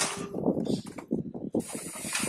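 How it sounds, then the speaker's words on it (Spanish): A car oil filter being loosened during an oil change gives off rasping, creaking mechanical scrapes and short squeaks in uneven bursts, close and moderately loud. "y así se afloja un filtro"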